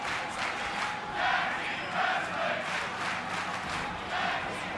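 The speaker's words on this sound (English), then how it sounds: "Crowd is on their feet." A wrestling event crowd on its feet cheering, a dense roar of many voices swelling in repeated waves across several seconds.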